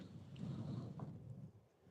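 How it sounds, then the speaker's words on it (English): Rain pelts down at an outdoor men's city league softball championship game, a faint rushing wash with gusty low rumble, fading out at the end. "With the rain coming down, it's pelting our faces."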